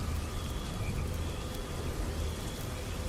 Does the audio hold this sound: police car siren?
no